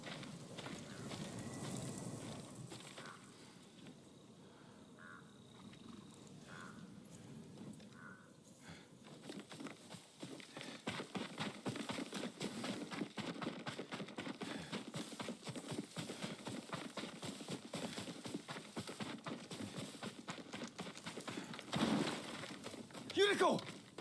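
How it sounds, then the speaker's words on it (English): A horse's hooves clip-clop at a walk in the video game Ghost of Tsushima, a steady soft rhythm that grows louder partway through over quiet ambient game sound. "Yuriko's horse. She can't be far."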